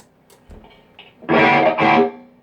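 A short burst of distorted 1952 Fender Telecaster electric guitar, two thick gritty strums ringing loud after a few quiet plucks.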